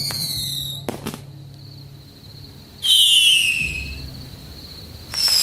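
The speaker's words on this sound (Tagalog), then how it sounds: "bago pa namin maayos na mailagay si Muning, biglang sumabog ang malakas na tunog ng fireworks sa labas." Fireworks going off outside: sharp bangs and a rising whistle, then a loud crackling burst and another pop, heard at a moderate distance.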